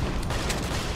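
Rapid gunfire from guns in the Borderlands video game, a dense burst of loud, close shots packed together across about a second.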